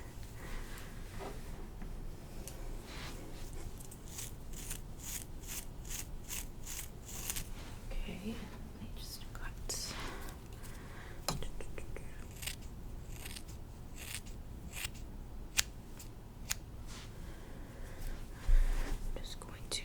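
Scissors trim real hair at the back of the head with rapid, close, crisp snips in irregular bursts. Soft whispering runs underneath.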